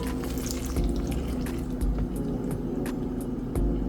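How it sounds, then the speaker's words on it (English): Yeast mixture for bolillos is poured into a bowl, a close, continuous liquid splash and trickle with small knocks, no talking. "Pouring our yeast mixtures in there."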